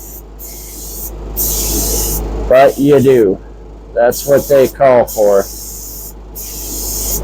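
A spray gun lays Cerakote coating onto metal parts at close range, with hissing bursts that start and stop in short passes, alternating with someone talking between sprays.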